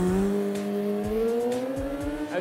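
A motorcycle engine held high during a wheelie, a steady rising rev with a strong harmonic whine climbing slowly in pitch, loud and close with faint mechanical ticks.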